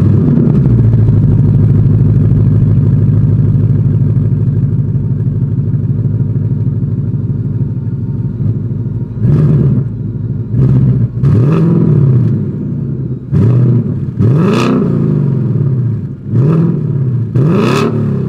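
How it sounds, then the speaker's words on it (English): A 2023 Ford Mustang GT V8 exhaust idles with a deep, loping burble close by, then a series of sharp revs rise and fall in quick bursts, loud and alone. "As always, here is that exhaust clip."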